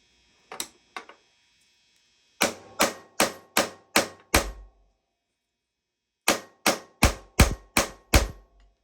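Metal hammer blows on a stuck part of a seized CR85 dirt bike engine up on a stand: two light taps, then a run of six sharp, evenly spaced strikes, a pause, and six more loud hits close by.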